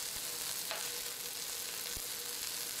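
Chopped onion and rocoto pepper brown in a pan, giving a constant dense hissing sizzle, close and even, with a couple of faint soft knocks and no voices.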